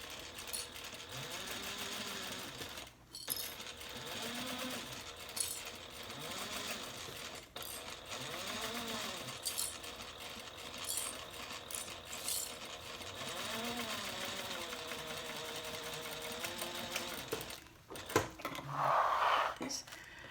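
A sewing machine with its needle stopping in the down position stitches the sides of a handbag to the front and back, a steady continuous hum running throughout with a speaking voice over it.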